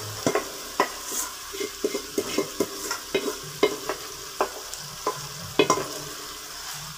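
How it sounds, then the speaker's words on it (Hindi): Keema matar stir-fried in a pan over medium heat gives a steady close sizzle, broken by frequent rhythmic scrapes and clacks of the spoon stirring, with no voices over it. "ऐसे इसको हम भूनते रहेंगे दरमियानी आंच पे।"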